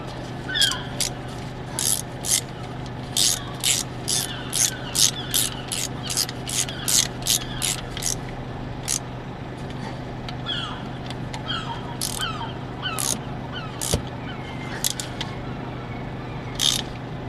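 A wrench ratchets to snug the injector bolts on an engine, leaving bursts of quick clicks in short repeated runs, fairly close and moderately quiet, with brief gaps between strokes and no talk.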